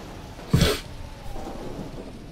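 A thunderclap crashes in a night thunderstorm in the video game Pokemon Mystery Dungeon: Explorers of Sky, a single loud burst followed by a softer rumbling tail under steady rain.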